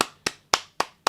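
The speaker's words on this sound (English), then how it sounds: "Give her a big round of applause." Four sharp, evenly spaced hand claps ring out close by in a podcast studio, about a quarter second apart, each one crisp and quickly decaying into quiet.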